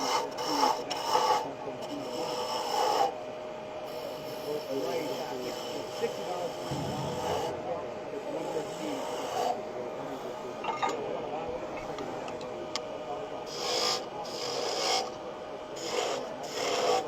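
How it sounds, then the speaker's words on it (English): A roughing gouge shaping wood on a lathe while turning a honey dipper, a continuous rasping, scraping cut over the lathe's hum, rising and falling in bursts as the tool engages and lifts. "Then we're going to come back with the roughing gouge and give that a little shape."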